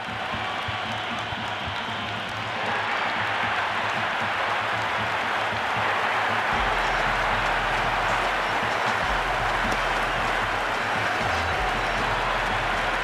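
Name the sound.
cricket stadium crowd buzz in the video game Cricket 26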